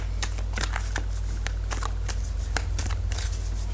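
A deck of tarot cards is shuffled and drawn by hand, giving a rapid run of light papery flicks and snaps close up over a steady low electrical hum.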